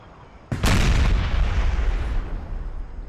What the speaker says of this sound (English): Trying to focus down with artillery fire